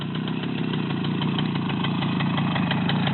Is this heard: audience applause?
no